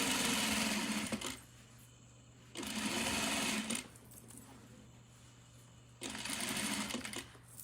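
Electric sewing machine stitching a skirt, running in three loud bursts of rapid whirring separated by quieter pauses, close and alone without talk.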